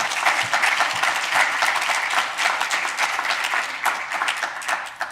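Audience applause in a lecture hall welcoming a speaker before a talk on the anesthetized brain: dense, sustained clapping from a sizable crowd throughout.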